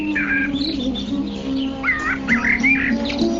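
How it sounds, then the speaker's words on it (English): Several songbirds chirp and whistle sweetly in a tree-filled garden, bright warbling calls overlapping above a steady low hum. "varieties of birds chirp with sweet voices"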